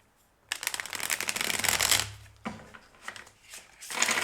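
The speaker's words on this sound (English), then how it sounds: "I feel the need to shuffle" A deck of cards shuffled up close: a long, dense riffling burst of about two seconds, then several shorter, lighter shuffles.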